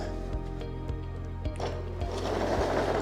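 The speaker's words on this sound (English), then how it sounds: "We're here at the grinder." A bench grinder, freshly plugged in, runs with a steady motor hum and low rhythmic thumps, then rises into a broader, rougher whir as it spins up.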